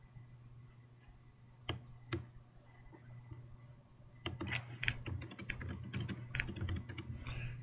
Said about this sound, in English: Type your password, then click Sign In.